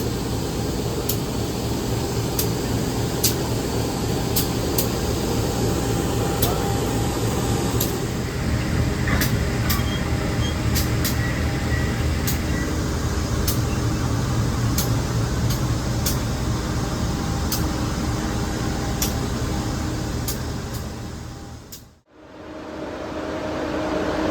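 Inside a KA Motis long-distance passenger train, a constant broad rumble and hiss of the carriage runs on with regular faint clicks from the track, then briefly drops out near the end.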